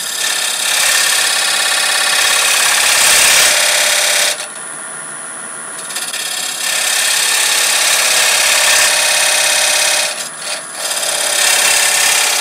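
Wood lathe turning a Christmas ornament at about 1,000 RPM, a loud, continuous, hissing rasp that drops away briefly twice and then resumes.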